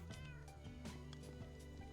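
Repeated short meows from cats inside a Minecraft-style survival multiplayer game, several quick calls spread across the moment over a constant low game hum.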